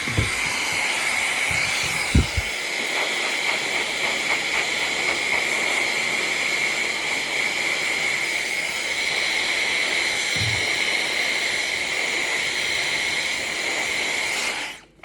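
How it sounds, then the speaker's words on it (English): A steady, loud rushing blow with a high whine runs for about fifteen seconds, cutting off abruptly at the end. "I'm just gonna use a hairdryer really quickly just to dry this down."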